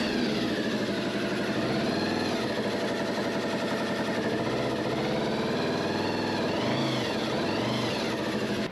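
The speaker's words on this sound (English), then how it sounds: "I'm just going to warm the engine up a bit" A Honda VFR800 motorcycle engine warming up idles and revs loudly and steadily, with a rough mechanical drone and a couple of brief rises in pitch near the end.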